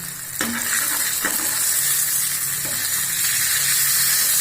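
Seer fish frying in a pan, a steady close sizzle and hiss of hot oil with a few light clicks from a utensil.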